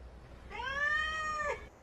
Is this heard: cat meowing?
yes